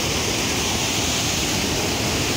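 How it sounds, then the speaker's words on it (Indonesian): Waterfall at Curug Parigi in Bekasi, a steady loud broadband roar of falling water that fills the whole stretch without a break, with no voices over it. "Wow, air terjun kan."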